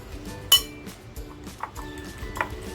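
Chicken coating batter of cornflour and maida is mixed in a bowl: a spoon clinks sharply against the bowl once, then scrapes and taps lightly with a few softer clinks.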